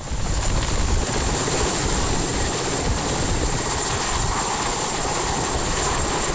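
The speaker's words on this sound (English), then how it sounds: "the team uses a 60s vintage Soviet-made helicopter to ferry people and supplies" A loud, steady rotor and engine roar from a 1960s Soviet-made helicopter, continuous and close, with no pauses or voices throughout.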